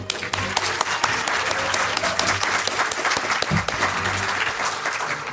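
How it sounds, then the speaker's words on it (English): Audience applause at Star Wars Celebration Europe 2023, a large hall crowd clapping steadily with scattered cheers, fairly loud throughout the few seconds. "Big round of applause for yourselves."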